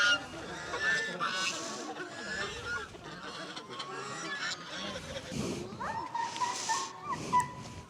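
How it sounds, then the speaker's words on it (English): A pack of wolves, including a white wolf, in a zoo enclosure gives off whining, yelping calls in irregular bursts, mid-distance, with people talking over and around them. "It's a pack of wolves."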